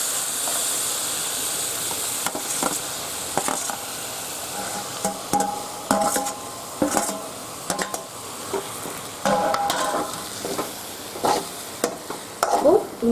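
Chicken pieces stirred into masala in a pan for pepper chicken kurma, a steady sizzle and hiss with repeated scraping stir strokes and light clanks of the spoon, close and fairly loud with no talk.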